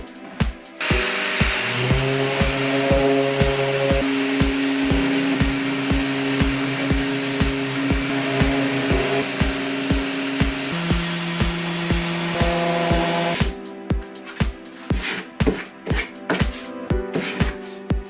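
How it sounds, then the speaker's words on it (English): Power sander working around the wooden edges of a homemade cajon box drum, giving a loud, continuous whine with shifting pitch for about twelve seconds, set between rhythmic knocks before and after. "now I'm going to sand all around the edges to make it look nice and clean"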